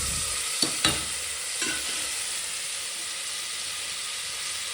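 Vegetables for bisibele bath fry in hot oil, giving a steady close sizzling hiss throughout, with a couple of sharp spoon-and-pan knocks near the start.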